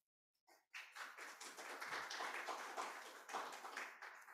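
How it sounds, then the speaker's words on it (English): A crowd at a cooperation agreement signing ceremony breaks into steady applause, many hands clapping together at a distance, fairly faint overall. "Big applause for this."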